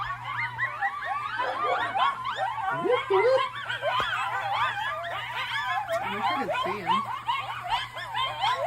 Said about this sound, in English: It's a whole little pack of coyote puppies.